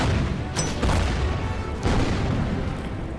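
HE gun shelling in the strategy video game Order of Battle, set on the Burma Road at Imphal in 1944: a couple of heavy booming blasts over a continuous rumbling backdrop of distant battle, with no voices.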